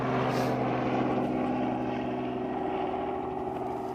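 A small aircraft drones overhead at a South African rhino conservation site, giving a steady propeller hum that stays loud and constant throughout.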